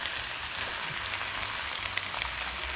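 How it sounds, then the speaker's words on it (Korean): Fried dried pollock being stir-fried in a pan over medium-low heat, a constant dense sizzle and crackle with soft stirring scrapes underneath, steady from start to finish. "너무 잘 튀겨져서 막 볶아도 안 깨져요"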